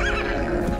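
A horse gives a short, close neigh in a film trailer about mustangs, heard alone in under a second.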